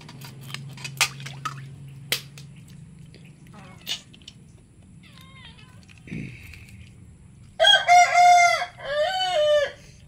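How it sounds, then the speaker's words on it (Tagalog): Fighting roosters crow loudly and close by, two long crows near the end after scattered clucks, clatter and a low steady hum. "Daming pangsabong na manok ah."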